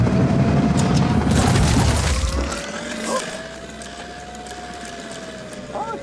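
Heavy return-fire explosions boom in a combat video game, with a loud low rumble for about two seconds that then drops away to quieter tones and scattered clicks.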